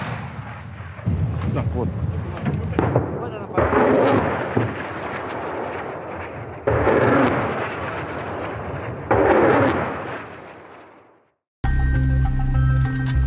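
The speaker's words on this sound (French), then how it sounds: "Donc, ce mortier va se mettre en action." Mortar firing on the Ukrainian front line, heavy booming blasts with long rumbling tails repeating several times amid outdoor noise, with brief speech heard in between.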